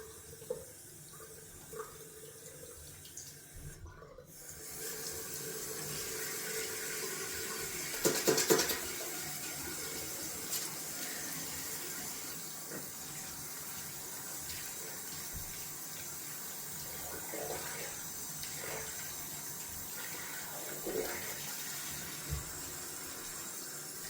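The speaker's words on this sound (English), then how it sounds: "going down for some cold water rinsing before some alum" Cold water runs steadily from a tap into a sink for a rinse after a close wet shave with a brass safety razor, a continuous hiss with a brief splash about a third of the way in, no talk.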